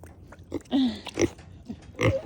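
A Kune Kune pig grunts up close in an urban farm pen, a few short snuffly grunts and squeaky oinks in uneven bursts over about two seconds.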